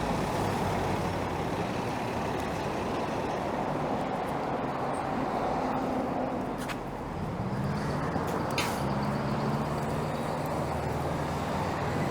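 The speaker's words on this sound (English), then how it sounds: "There goes a 133 bus." A 133 city bus rolls by on Kennedy Road in Scarborough, its engine rumbling amid steady roadway traffic noise, with a brief hiss like an air brake and a passing engine drone near the end.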